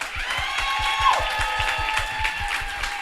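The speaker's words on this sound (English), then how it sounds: "let's give another round of applause to our panelists and to Adam and Vanessa" Applause for panelists at a live bee festival event: sustained dense clapping from an audience, steady and fairly loud throughout.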